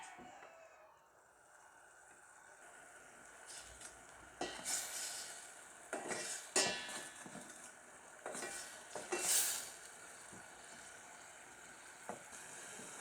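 Spices are stirred into browned onions in hot oil for a hilsa curry, with intermittent scraping strokes of a spoon against the pan over a faint, steady sizzle.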